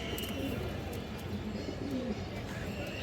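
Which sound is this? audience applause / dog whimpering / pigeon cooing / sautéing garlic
pigeon cooing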